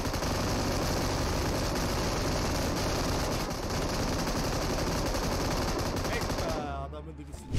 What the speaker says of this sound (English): They all roll with like M249s and never stop shooting once they've acquired a target.